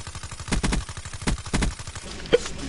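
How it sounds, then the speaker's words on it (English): Automatic gunfire in Black Ops 3, short rapid bursts of close, loud shots in quick succession over about two seconds, then a brief single crack, with no voices. "I sprayed like 30 bullets at him, and I got 3 hit markers, and then I finally killed him"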